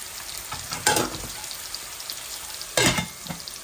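Prawns frying in a pan with red onion sizzle steadily, with two louder bursts of crackling spatter as they are stirred, close by and without speech.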